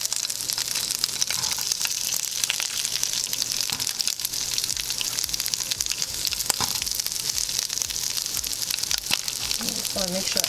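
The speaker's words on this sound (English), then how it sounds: "you want to throw your sausages in there. This takes about like 2 to 3 minutes to cook" Vegan sausages frying in a hot pan: a steady, dense crackling sizzle throughout, with occasional scrapes and pops and a faint voice near the end.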